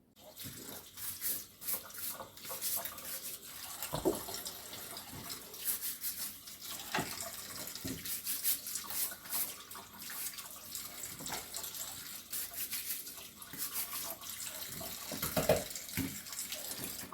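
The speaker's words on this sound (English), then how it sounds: "I fill the pan with water." Tap water runs steadily into a pan of rinsed potatoes for dry canning, a continuous splashing rush with brief louder gushes, close by and with no talking.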